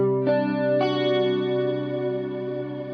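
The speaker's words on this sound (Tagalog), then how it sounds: "Tapos susunod natin yung chorus naman na may particle reverb." Electric guitar run through a chorus effect with a particle reverb pedal in an ampless rig, two struck chords ringing on with a shimmering, wavering sustain and a lingering reverb tail, steady and close with no talking.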